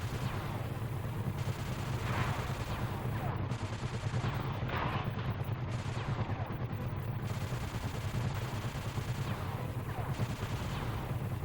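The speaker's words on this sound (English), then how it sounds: "I guess at least we're in a moving turret" Rapid, sustained gunfire from a moving gunship turret in the Sly 2: Band of Thieves video game, a steady dense rattle of shots running the whole time over a low rumbling engine bed, loud and continuous.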